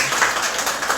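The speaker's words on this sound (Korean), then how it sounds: "우리 박수로 환영하겠습니다." Brief burst of clapping from a congregation at a Sunday church service, welcoming a male church member; a dense, even patter of many hands at moderate volume, steady through the whole moment.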